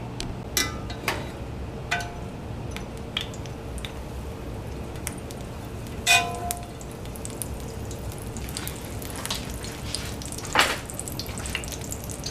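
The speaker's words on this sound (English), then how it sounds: "So we're going to start frying it skin side down." Salmon fries skin side down in a hot pan on a stovetop, a steady loud sizzle with scattered sharp pops and crackles throughout.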